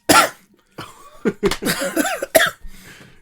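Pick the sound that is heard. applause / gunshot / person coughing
person coughing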